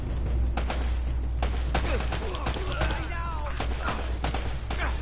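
Gunfire rings out in an Uncharted video game: a rapid, irregular fusillade of sharp shots over a constant low rumble of battle ambience.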